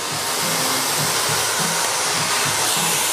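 An eco-friendly blow dryer runs continuously at a hair stylist's, a loud, steady airy whoosh with a faint pulsing low hum beneath, heard alone without talk.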